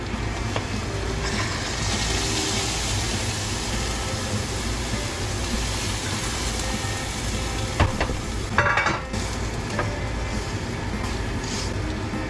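Marinated food being stirred and mixed in a pan, a continuous dense sizzle with a brief burst of scraping and clatter near the end, no talking.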